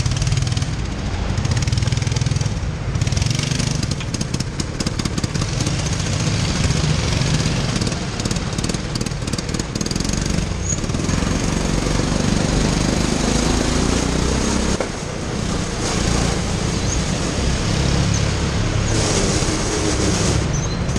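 A go-kart engine running in Ełk, Poland, a loud continuous close rumble with uneven revving and sputtering throughout.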